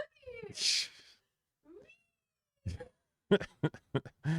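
A pet cat meows close by with a drawn-out plaintive cry, then a shorter mew, followed by a few soft bumps and taps as it is handled.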